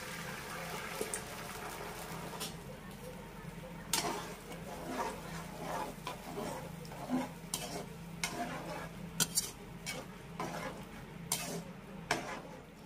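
Soya chilli is stirred in a pan after a cornflour, tomato ketchup, soy sauce and green chilli sauce mixture goes in, with steady sizzling and bubbling under repeated scraping and clacking strokes that spike now and then.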